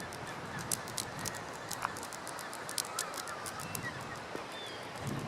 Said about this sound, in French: On entend les goélands.